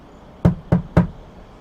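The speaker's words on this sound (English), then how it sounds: "The wolf knocked on the door" Three firm, evenly spaced knocks sound on a wooden door, close and hollow, each one fading quickly into quiet.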